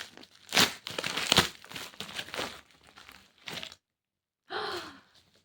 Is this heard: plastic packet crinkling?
yes